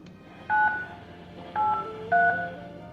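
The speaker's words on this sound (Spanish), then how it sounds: "descolgó el teléfono y marcó el número" Three separate telephone keypad tones beep as a number is dialed, each short and clear, set against a quiet background in a radio story.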